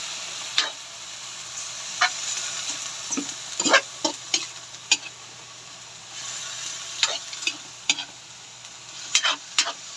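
Food frying in cooking oil in a pan while being stirred, a steady bright sizzle broken by repeated sharp utensil clicks and scrapes at an irregular pace, fairly close.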